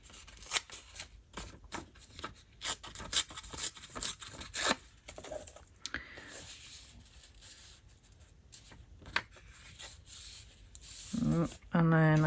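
Paper is torn by hand at a crafting table. Short, dry ripping and rustling bursts come in quick irregular runs, fairly close but soft, with quieter rubbing between them and a brief voice near the end.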